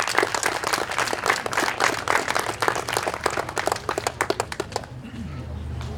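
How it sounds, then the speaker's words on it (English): Audience applause at the Miss Teen Avenal 2018 pageant, a burst of sharp, distinct claps from a modest crowd that thins out and stops near the end, leaving a low background hum. "Let's all give them an applause for helping us to make this event possible."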